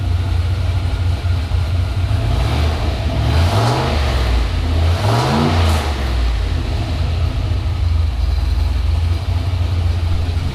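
A turbo LSX car engine runs loud and close, rising through two quick revs in the middle before settling back to a steady roar.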